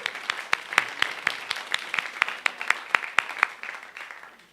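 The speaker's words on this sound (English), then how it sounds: "Let's hear a round of applause for that." A small congregation at a church service claps, the individual hand claps distinct and fairly regular, building in density then tapering off at the end, fairly close and alone.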